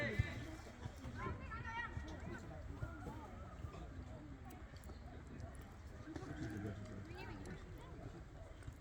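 Horse hooves clip-clop at a show jumping ride, a quick rhythmic run of hoofbeats heard close under steady spoken coaching and background voices.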